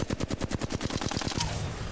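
The Flatline rifle fires in the video game Apex Legends, a rapid, evenly spaced burst of roughly a dozen close, punchy shots that cuts off abruptly; no talking.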